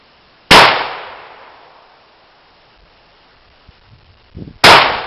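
Two loud, sharp blasts from a JW-2000 12 gauge coach gun fired outdoors at targets, about four seconds apart, each ringing off in a long fading echo, with faint clicks and handling noise between them.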